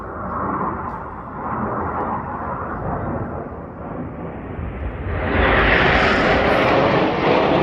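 A fixed-wing military aircraft roars overhead at a Swiss Air Force air show in Grindelwald, a loud sustained engine rumble that swells sharply and brightens toward the end as it passes close.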